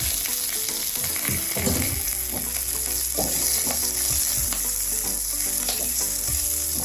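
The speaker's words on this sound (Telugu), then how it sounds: "పచ్చిమిరపకాయలు కొంచెం వేగితే చాలు మరీ ఎక్కువ వేగక్కర్లేదు" Chopped green chillies fry in hot oil for a ridge gourd chutney, giving a loud, continuous close sizzle broken by repeated stirring scrapes, with no voices.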